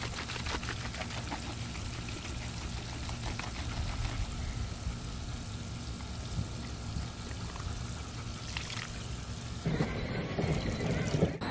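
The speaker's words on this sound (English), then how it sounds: "he has to do three equal parts of water" Water is poured into a bucket of stucco mix with added color during house renovation prep: a soft, steady trickling pour runs on at low volume, then a brief louder splash near the end.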